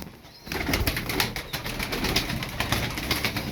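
Pigeons in a loft coo and shuffle close by, with soft repeated calls and fluttering wing sounds rising quickly and continuing steadily.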